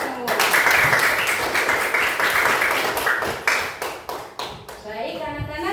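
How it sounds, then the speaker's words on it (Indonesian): Schoolchildren in a classroom clap together in a loud, dense burst of rapid hand claps that thins into scattered claps toward the end, with children's voices mixed in. "tepuk tangan untuk kita semua"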